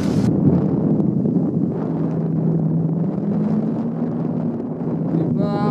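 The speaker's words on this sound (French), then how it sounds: "Il y a un peu du vent, hein?" Strong mountain wind on Shishapangma in Tibet roars and buffets the microphone in a continuous low rumble, with no clear voices.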